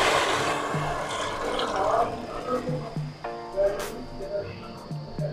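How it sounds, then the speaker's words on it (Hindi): Chickpeas and their cooking water tipped into a pan of spices cooked in oil, giving a wet splashing pour with sizzling and stirring, close and fairly steady across the clip. "स्पाइसेस को थोड़ा सा कुक करने के बाद अब मैं इसमें चने डाल दूंगी उसके पानी समेत।"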